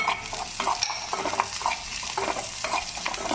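Dry red chillies and curry leaves fry in hot oil while being stirred for a veg chukka, a steady close sizzle broken by repeated scraping stirs of the spoon against the pan, with no voices.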